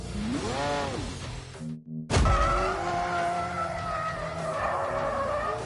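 Lamborghini tires squealing in a racing video game, a loud skid with a sweeping engine whine, a short break, then a sustained high-revving engine roar.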